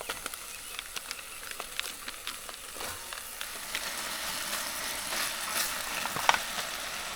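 Gnocchi dropped into a hot pan on a butane camp stove at a lakeside campsite sizzle with a steady, bright frying hiss that builds slightly over several seconds, with faint scattered crackles and clicks and no voices.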